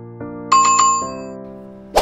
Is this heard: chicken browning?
no